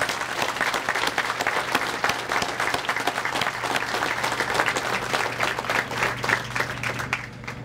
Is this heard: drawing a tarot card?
no